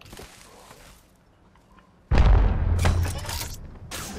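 Heavy booming gunfire and explosive hits in an arena match of a shooter game, erupting suddenly after a quiet stretch and continuing loud and close in repeated bursts.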